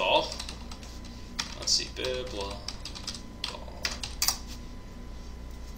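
Computer keyboard keys clatter in quick, close bursts as a search is typed into an in-game auction house, with someone speaking over the typing.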